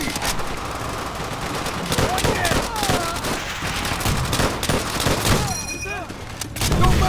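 Heavy automatic gunfire and rifle shots crackle in rapid bursts during a Marine beach assault in the video game Call of Duty: World at War, loud and continuous, with shouted voices mixed in.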